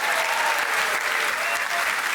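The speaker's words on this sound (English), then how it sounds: "if you're applauding that" Stand-up comedy crowd in a club applauding, dense and loud sustained clapping that fills the whole stretch without a break.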